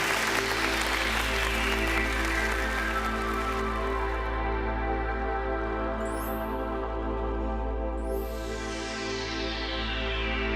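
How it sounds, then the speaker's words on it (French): Studio audience applauding on a French numbers game show, a steady wash of clapping over a constant low hum, lasting throughout at even loudness. "Sous vos applaudissements, s'il vous plaît."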